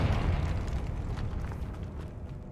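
Confringo fire spell exploding in the video game Hogwarts Legacy, a loud low boom right at the start that rumbles and slowly fades over a couple of seconds with no talk.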